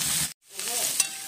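Radish pieces frying in a pan for a mixed vegetable dish, a close sizzle that cuts out for a split second, then resumes with a light stir and one crisp clink.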